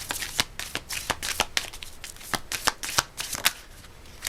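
Astrological cards being shuffled by hand, a rapid series of close, crisp riffling snaps and slaps in an uneven rhythm, alone without talk.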